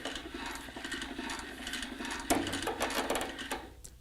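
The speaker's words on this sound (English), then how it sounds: "To raise the load, simply rotate the handles towards the mast." A hand winch drum winds cable as its handles are turned, giving a steady close mechanical whirr and clicking rattle, with a sharp clunk partway through and a brief fade toward the end.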